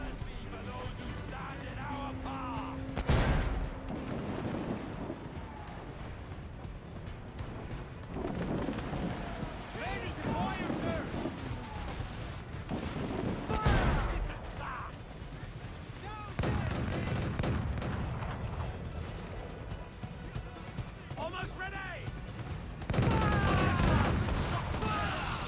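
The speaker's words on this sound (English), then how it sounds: "Mortars are really strong on this fucking thing." Ship mortars fire in Assassin's Creed Black Flag, heavy booming blasts recurring several times over a dense battle din of explosions and sea noise, with voices speaking in the game.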